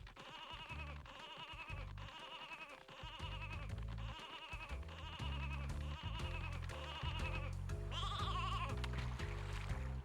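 A sheep in the video game Space Station Silicon Valley bleats repeatedly in a steady rhythm, about nine clear calls over looping game music, the last one higher and louder.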